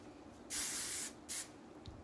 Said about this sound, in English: I'm gonna just spray it down really quick.